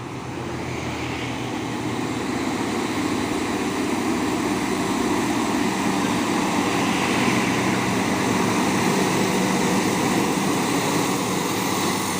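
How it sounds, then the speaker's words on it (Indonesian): A trailer truck's engine drones steadily from behind on a road, a dense continuous roar that holds at a constant loud level throughout with no clear rise or break, and no talking over it. "Wah, di belakang ada truk trailer."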